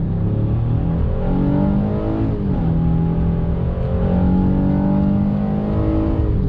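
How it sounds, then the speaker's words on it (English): A 2020 Honda Ridgeline midsize truck with a 10-speed automatic accelerating at full throttle, its engine note climbing steadily in pitch, dropping at a gear shift and climbing again, heard loud and close from inside with no talk. "Got another acceleration test on throttle."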